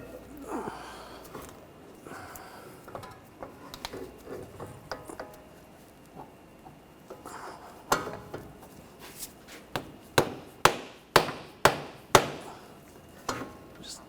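A rubber mallet taps a CV axle into place on a 2009-2013 BMW 328i xDrive 3.0L. After quiet fiddling, a run of about six sharp, evenly spaced knocks lands close and clear, growing slightly louder.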